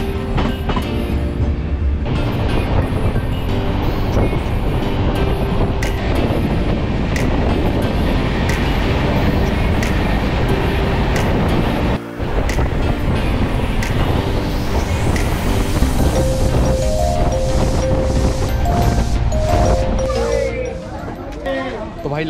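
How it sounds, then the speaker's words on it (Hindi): An Indian Railways train runs steadily with a loud continuous rumble and rattle of carriages and tonal squeals and hums, close by, with a brief dropout midway. "भारतीय रेल सेवा की ट्रेन चालू।"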